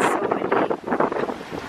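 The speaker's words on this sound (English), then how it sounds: "Oh my gosh, the wind's so loud" Strong wind buffets the microphone outdoors at a McDonald's, a loud rumbling roar that swells and dips in gusts, with no voices heard.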